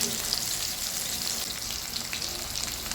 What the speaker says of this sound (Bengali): সবগুলো মাছ এভাবে উল্টানো হয়ে গেলে আরও কয়েক মিনিট এভাবে ভেজে নেব